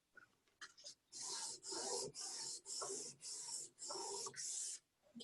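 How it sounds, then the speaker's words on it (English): A cast ring is rubbed back and forth along its edges on fine 1200-grit sandpaper, making seven even, hissing rasps in a steady rhythm, close and quiet. "We're just going to run the ring on the 1200 sandpaper again on the edges."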